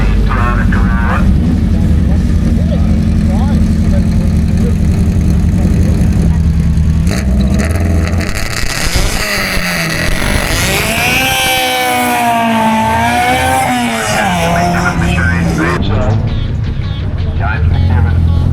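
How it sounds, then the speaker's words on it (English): A Toyota Corolla racing up a hillclimb course, its engine screaming loud and close, revving hard and shifting through gears, with commentary running underneath. "James McNiven comes out in the Toyota Corolla"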